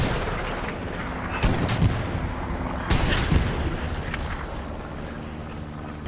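Tank cannon fire in the console game Hell Let Loose, a Panzer IV duel: two heavy booming shots about a second and a half apart over a constant loud rumble of engines and battle noise.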